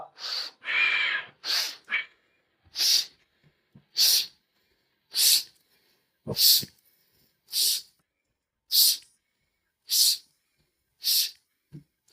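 Forceful rhythmic breaths during a yoga joint-mobility exercise, about ten loud bursts spaced roughly a second apart, close and clear with no talking over them.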